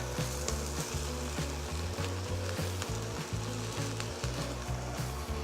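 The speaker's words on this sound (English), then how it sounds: "so now I'll add my rice" Raw rice tipped into a pan of softened onions and hot oil sizzles steadily and loudly up close, with a constant frying hiss and light scraping and stirring knocks through it.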